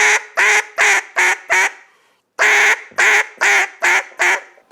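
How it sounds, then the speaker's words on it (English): A duck call blows a greeting call: two loud, close runs of five and six evenly spaced raspy quacks, separated by a short pause, with no other sounds. "I'll start out with a greeting call."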